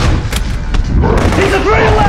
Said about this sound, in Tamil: ஐயோ ராக்கெட் லான்ச்.